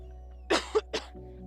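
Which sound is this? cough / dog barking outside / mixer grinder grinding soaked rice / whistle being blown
cough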